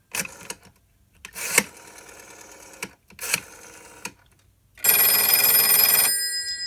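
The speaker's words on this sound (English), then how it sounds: "And so right now it's ringing." A Western Electric 302 telephone bell rings in several short, loud bursts separated by pauses, ending in a longer sustained ring close by.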